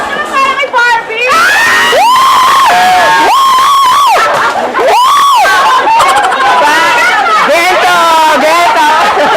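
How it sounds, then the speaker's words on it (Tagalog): An excited crowd at a Trendsetters Bazaar cheers and shouts for Barbie, loud overlapping voices and children's shrieks rising in repeated surges, with chatter filling the gaps between bursts. "Isang palakpak naman para kay Barbie!"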